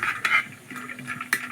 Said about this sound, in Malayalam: നമ്മുടെ അണ്ടിപ്പരിപ്പ് മുന്തിരിയൊക്കെ നമുക്ക് വറുത്തെടുക്കാം